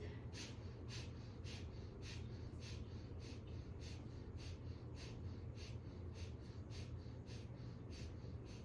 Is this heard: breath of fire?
yes